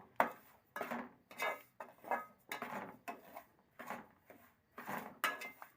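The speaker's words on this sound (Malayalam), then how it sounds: "റവ ആഡ് ചെയ്ത് കൊടുക്കുക. നന്നായിട്ടൊന്ന് ഇളക്കി റെഡിയാക്കി എടുക്കണം." A spoon scrapes and stirs rava roasting in ghee in a pan, about nine distinct rhythmic strokes, close and fairly quiet with short pauses between them.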